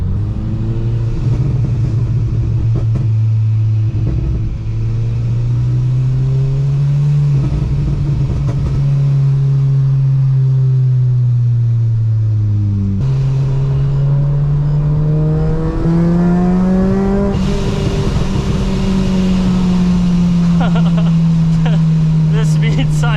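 A supercharged Honda VTEC engine screams up toward 9000 RPM in repeated hard pulls, the pitch rising and dropping at each shift, loud and close inside the car, with a voice talking over it at times.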